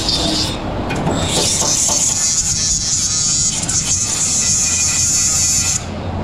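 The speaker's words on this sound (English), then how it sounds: "I went ahead and sanded the whole area out with that little drum" Small drum sander grinding across the rusty bed of a 1962 Chevy C10 pickup, a steady close abrasive buzz and rasp that holds for several seconds and then stops.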